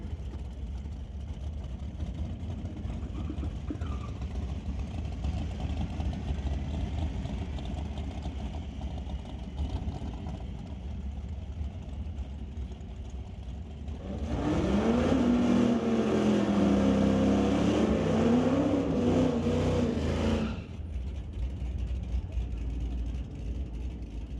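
Subaru and Chevrolet Trailblazer launching side by side in a drag race at an NHRA event, engines rising to a loud roar for several seconds over steady crowd and announcer chatter, then fading back.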